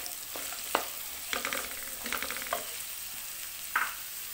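Chopped onion and capsicum sizzle in a hot pan for chicken Manchurian, with a steady quiet frying hiss broken by scattered scrapes and clinks of a spatula stirring the vegetables.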